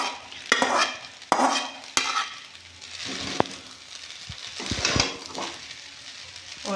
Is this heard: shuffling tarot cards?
no